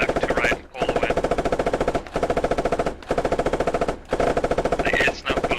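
Machine gun in the video game Squad firing sustained bursts through a wall, a rapid, loud, evenly spaced rattle broken by four short pauses between bursts.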